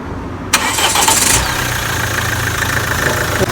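Mahindra XUV500 diesel SUV engine cranking and catching with a sharp burst, then settling into a steady, loud idle close by with a faint rhythmic knock.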